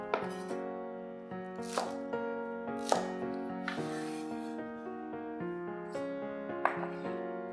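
Knife on a cutting board chopping spring onions into short lengths, a series of sharp, close taps spaced about a second apart over a loud sustained musical background, with no talking.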